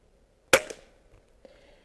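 A single sharp crack from a Daystate Huntsman Revere .22 PCP air rifle shot at a target 25 yards away, followed by a quick ring of impact, then a faint later tick.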